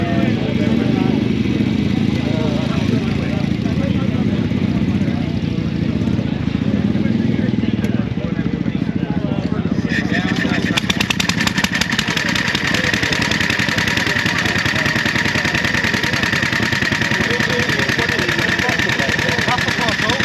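A 114-year-old Triumph motorcycle engine starts and idles loudly and close by at a bike night at Castle Combe, with a steady rough putter that sharpens partway through, while people talk nearby.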